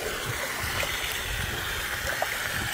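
Steady rushing and gurgling water runs continuously as a Smartbot 1/2 HP sump pump drains it, with no talk over the flow.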